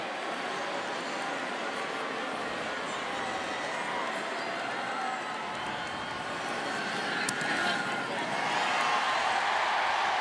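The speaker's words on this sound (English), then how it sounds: "a big cheer from the Alabama faithful" Alabama fans in a packed college football stadium roar for an extra point against Eastern Illinois, a broad distant crowd wash that swells louder near the end.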